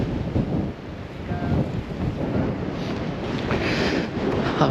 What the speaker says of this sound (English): Very windy day, so that's why the flights have been cancelled.